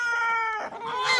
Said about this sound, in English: And the roosters are being stinky to one another first thing.